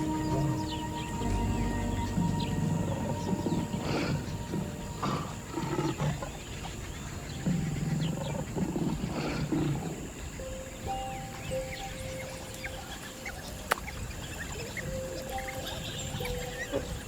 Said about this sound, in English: As the lion's roar fades into the distance